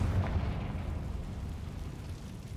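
In the video game Hogwarts Legacy, a Confringo spell sets off a fiery blast, a low, booming rumble that starts loud and slowly fades over a few seconds.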